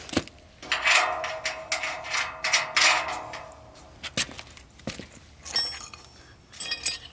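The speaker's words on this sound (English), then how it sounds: "your M12 nylock nuts, you can thread on by hand." M12 nylock nuts threaded on by hand during a tower yoke setup, giving close, irregular metallic rubbing and light clinks, scattered in short bursts with quiet gaps between.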